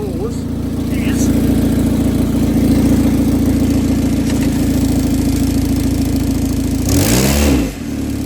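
A Hyundai Getz engine idles with a broken exhaust expansion bellows, a loud, steady droning rumble with a slight pulsing beat and a brief swell near the end.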